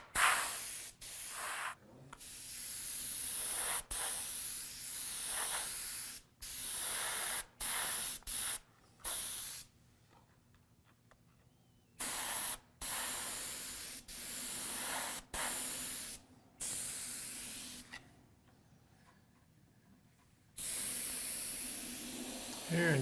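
A spray gun applies paint to a sculpture, each pull of the trigger releasing a loud, steady hiss of spray in repeated bursts of a few seconds, separated by short quiet gaps.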